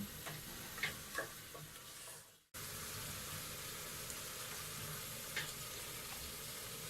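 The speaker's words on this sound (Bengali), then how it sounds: "এক পাশে আমার মাংস কষাচ্ছি" Beef sizzles as it is stir-fried with spices in a pan over medium heat, a soft, steady frying hiss with a few light stirring ticks, briefly cut off before the quiet sizzle resumes.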